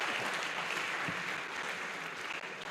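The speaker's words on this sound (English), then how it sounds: "can you clap for them?" An audience at an annual law lecture claps for the visiting dignitaries, a soft, distant and even patter of hands that carries on without a break and without voices.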